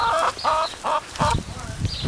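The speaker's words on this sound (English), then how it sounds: "And there's the chickens." Farm chickens at an organic farm cluck and squawk in a run of close, repeated calls, loud and near, with a few lower rustles and scuffs between the calls.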